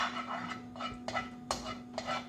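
Oil being stirred around a pan while cooking fried bread chicken, heard as soft, intermittent scraping and clinking of a utensil against the pan, with several light strokes over a steady low hum.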